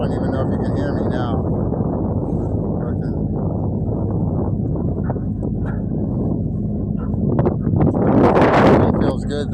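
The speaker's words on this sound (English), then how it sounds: "Wind feels good though." Wind blows over a microphone on a ferry ride, a constant low roaring buffet with a stronger gust near the end. A voice may be faintly present at times.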